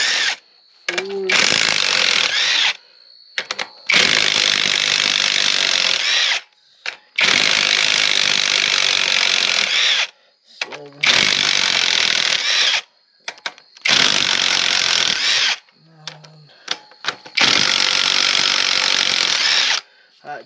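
An impact wrench takes 1/2-inch bolts off a Briggs & Stratton engine during a camshaft replacement, roaring in six or so loud hammering bursts of a few seconds each, separated by short pauses and faint clicks of the socket.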